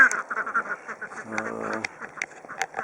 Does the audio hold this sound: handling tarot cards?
no